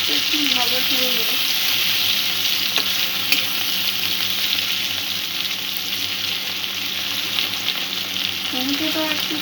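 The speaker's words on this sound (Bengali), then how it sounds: "টমেটোটা একটু সফট হওয়া পর্যন্ত সমস্ত উপকরণগুলো একটু ভাজবো।" Onion and chopped tomato fry in a pan over low-to-medium heat, a steady close sizzle with occasional stirring scrapes running throughout, no talk.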